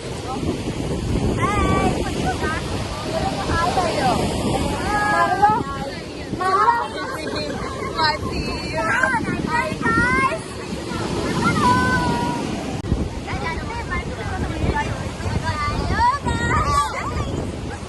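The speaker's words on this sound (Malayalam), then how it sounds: "നല്ല കാറ്റുണ്ട്." Steady strong wind roars across the microphone at Arakkal beach, with surf rumbling underneath and people talking throughout.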